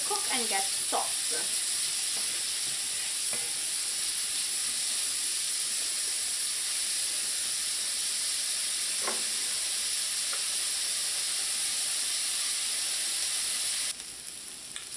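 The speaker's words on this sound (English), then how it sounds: "And allow the onions to cook and get soft." Onions and chopped hot pepper fry in a pan for Caribbean smoked herring sandwiches, giving a steady, even hiss with a few light stirring clicks early on and the sizzle continuing throughout.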